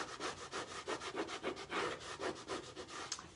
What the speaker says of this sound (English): You're just gonna lift and rub and lift.